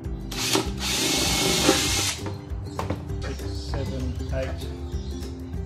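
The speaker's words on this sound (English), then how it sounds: "You can always drill more holes later." A power drill whines loudly for about two seconds as it bores roughly 8 mm holes, then quieter tool and handling noises follow.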